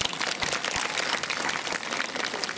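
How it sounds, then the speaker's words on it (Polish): A concert audience applauding steadily in Bydgoszcz, Poland, dense overlapping claps filling the whole stretch at moderate loudness with no voices. "Proszę, brawa,"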